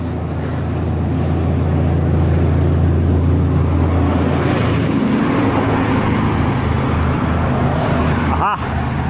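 Steady heavy road noise from trucks and vehicles on a steep mountain road through rainforest, a loud continuous rumble with one brief sharp sound near the end.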